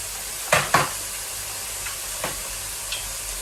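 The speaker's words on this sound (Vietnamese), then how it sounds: "Đậu bắp nướng lên ăn đã cho em." Pork belly and okra sizzling on a home grill, a steady hiss of frying broken by a few brief clacks of tongs or utensils, with no one talking.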